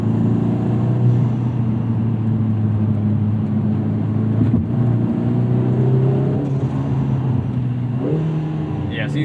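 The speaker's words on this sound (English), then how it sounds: "see these shifts they're smooth, but they're just far slower than what you should have in a modern DCT" Lotus Emira on the move with its engine droning steadily and a dual-clutch gearbox making smooth but slow shifts, the cabin hum holding level throughout with a brief shift dip near the middle.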